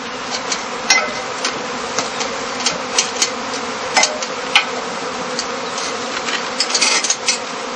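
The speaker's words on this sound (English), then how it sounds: "By means of a skep placed on the eaves, the beekeeper offers the swarm a dark hollow," A honeybee swarm entering a straw skep under the eaves in a heather apiary, a dense continuous buzzing hum close by, with scattered louder passes of individual bees.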